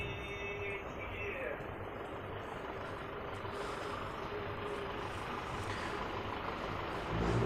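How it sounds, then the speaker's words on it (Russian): A Ford truck collecting used goods drives past on a street in Mezitli, Mersin, Turkey, its engine rumbling steadily and close over continuous traffic and street noise. "Вот Форд, который едет по разным сетям, собирает все, что БУ"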